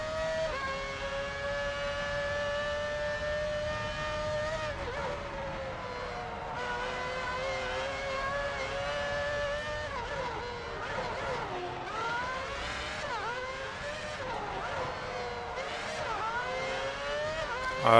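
An F1 car in F1 Championship Edition on PS3 howls with a high, strongly tonal engine note. It holds steady, then dips and climbs repeatedly as it lifts and reaccelerates through corners, loud throughout.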